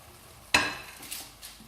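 Peeled, chopped eggplant drops into hot masala with a sudden sharp sizzle burst, then a few softer stirring scrapes fade out, close and quiet overall.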